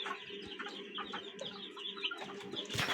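Desi hen clucking softly and repeatedly, mixed with other bird calls in a farmyard setting; a steady, close chatter of short clucks and chirps with no talk.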